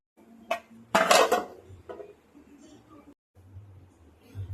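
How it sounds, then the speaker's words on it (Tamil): A metal lid clanks down onto a cooking pot of rasam with one sharp clatter and a lighter clink after, followed by quiet kitchen handling. "இப்போ நம்ம மூடி போட்டுக்கலாம்"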